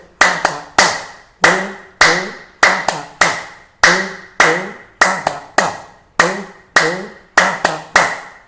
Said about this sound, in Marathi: टाळ्या जोरात आघात करायचा आहे